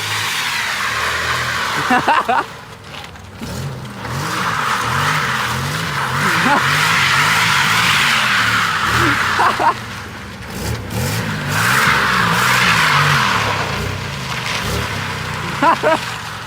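A car with a welded differential struggles up a slope with no traction, its engine revving in surges while the tyres spin and squeal loudly, broken by short pauses.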